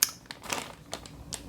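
A plastic bag that held Lego figures crinkles close by in short, scattered rustles and crackles, a few sharper crinkles standing out against a quiet background.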